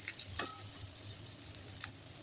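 Native koi fish frying in a pan give off a soft, continuous sizzle with a couple of brief, sharp spits, quiet and close, with no talking.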